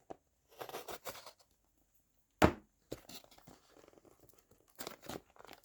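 Cardboard and plastic packaging of a Morakniv Eldris knife being opened up close in a quiet room, with bursts of crinkling and tearing, one sharp snap partway through, then more rustling.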